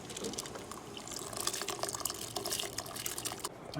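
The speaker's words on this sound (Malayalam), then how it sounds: "ഇനി അരി ഇടും." Rice for a shrimp biryani tumbles into a pot of hot water, making a soft, splashy rush and patter of grains hitting liquid that swells and fades over a few seconds without talk.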